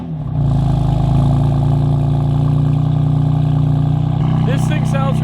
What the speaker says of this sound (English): let's go ahead and get a cold start on the M4 and start heading down there.